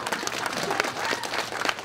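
Audience at a SunnyCon fan convention panel bursts into loud, dense applause that fills the whole moment, steady clapping with scattered cheers and no talk over it.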